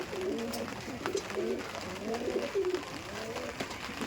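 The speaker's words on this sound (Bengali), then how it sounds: "একটা পায়রা দেখাচ্ছি" A Pakistani Chotiyal pigeon coos repeatedly in soft, low, rolling phrases at a steady rhythm, fairly quiet against faint background noise.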